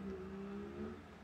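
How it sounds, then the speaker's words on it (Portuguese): A motorcycle with a noisy engine passes somewhere below, a faint, distant droning hum that rises slightly and fades. "Tá passando um filistino lá embaixo com a moto com um barulho danado"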